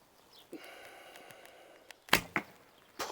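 An arrow is shot from a Tiron 68-inch bow made by MR Bows: a soft creak as the string is drawn, then a sharp release snap followed by two quick impact thumps, close and otherwise quiet.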